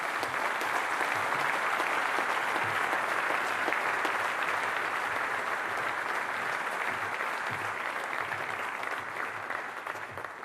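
Steady, sustained applause from a large crowd at a university sports awards ceremony, loud and even for the whole stretch, fading slightly at the end.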